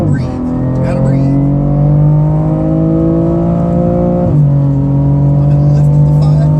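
BMW M car accelerating at full throttle on a track, a loud steady engine note rising in pitch, dropping briefly at a gear change before climbing again, heard from inside the cabin.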